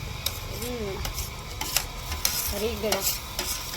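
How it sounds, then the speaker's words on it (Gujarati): Brinjal pieces added to a pot and stirred, with scraping and clinking of a spoon against the vessel and a light sizzle underneath, while a voice talks over it. "જેમાં રીંગણા નાખીને પછી આપણે એને હલાવી નાખીશું."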